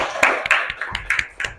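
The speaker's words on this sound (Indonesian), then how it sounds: "mana tepuk tangan dulu untuk kita semua" A junior high school class clapping hands together, a short run of sharp claps in quick irregular rhythm, close and moderately loud.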